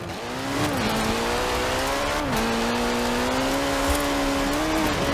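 Ford RS200 with a turbocharged Cosworth BDT engine and all-wheel drive in Forza Horizon 4, a close, loud engine drone holding steady pitch with brief dips and rises between shifts, running alone without talk.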